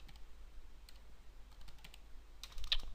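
Sparse keystrokes tap on a computer keyboard, a few quiet clicks scattered over a few seconds and ending in a slightly louder burst of presses, close by in a quiet room.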